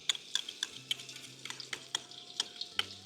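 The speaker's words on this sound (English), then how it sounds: "Give it a stir." Bamboo and pork being stir-fried in a hot pan, with a spatula scraping and clinking in a quick, irregular rhythm over a steady sizzle, close and fairly loud.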